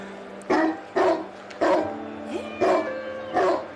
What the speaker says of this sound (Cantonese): 點解會有狗吠聲嘅？